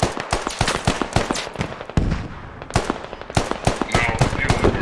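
Gunfire in the military shooter Squad on an Afghanistan map: rapid sharp shots in bursts and single cracks, some close and loud, others fainter, with voices talking over the shooting.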